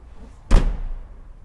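The door of a 1983 car slams shut once with a loud, sharp metallic thud that fades into a short low rumble, with no voices over it.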